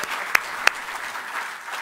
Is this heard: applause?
yes